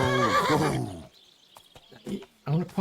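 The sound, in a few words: horse neighing in video game Kingdom Come Deliverance 2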